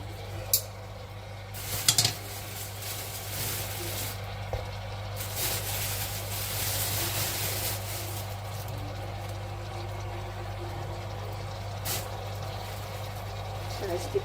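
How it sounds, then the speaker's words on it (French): Frying and stirring in a pan while making couscous, a steady close sizzle with occasional scrapes and knocks of a utensil, under a person talking. "On la laisse frire, on la mélange."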